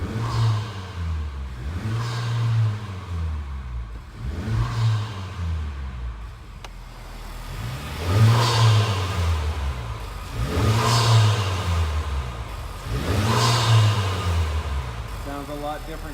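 Honda Civic Type R FK8 engine with a K&N air filter revving repeatedly, about five rises and falls in a steady rhythm, loud and close with a faint whir between revs.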